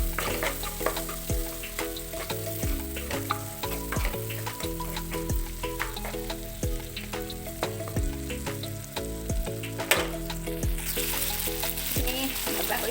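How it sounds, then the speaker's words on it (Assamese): Capsicum and tomato sizzle and crackle steadily in a hot pan under background music, with frequent sharp scraping and stirring clicks. "ইয়াত দিম কেপচিকামখিনি আৰু বিলাহী অলপমান ভাজি দিম।"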